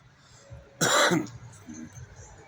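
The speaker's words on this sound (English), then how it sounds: "that's not a very productive cough" A single loud, dry cough bursts out close by, followed by a quieter throat-clearing rasp against a hushed late-night background.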